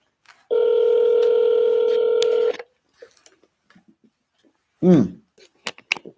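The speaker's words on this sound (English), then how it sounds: "So I'm going to go ahead and press dial." A steady electronic dial tone sounds loudly for about two seconds as a phone is dialed for a real estate cold call, followed by sparse faint clicks and a brief burst of voice.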